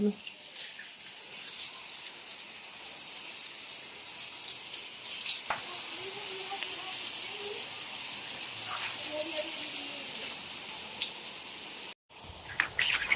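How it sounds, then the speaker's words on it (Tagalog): Steady hissing rush of water from a hose rinsing a garage floor, continuous throughout, with faint voices murmuring underneath and a brief break near the end. "parang binabanlawan na lang po natin itong sahig"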